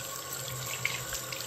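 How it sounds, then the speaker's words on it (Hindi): Tap water runs steadily into a kitchen sink during washing, a continuous close splashing stream with no talk over it. "मैं तो इसको पानी के साथ ही धोती हूँ"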